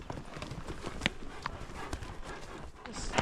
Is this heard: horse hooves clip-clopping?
yes